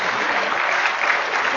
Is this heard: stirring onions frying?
no